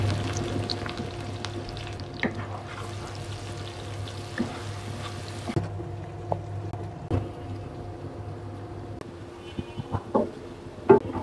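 Chopped onions sizzle steadily in hot mustard oil in a pan for an eggplant and egg bharta, with a continuous close frying hiss broken by a few soft knocks and stirring clicks.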